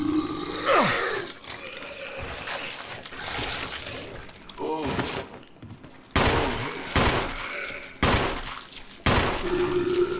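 Gunfire rings out in the Resident Evil zombie game: several loud sharp shots and bursts come at intervals over a mix of game sounds, with a roaring creature and a splashy, watery background.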